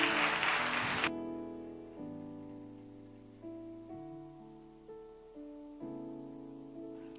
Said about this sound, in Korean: 여러분 나오실 때 뜨거운 박수로 환영해 주시면 감사하겠습니다.